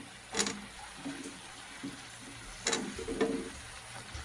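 Chopped ridge gourd and eggplant stirred in a frying pan, giving a soft sizzle with a few scraping, clattering strokes from the utensil, close and fairly quiet, with no talk.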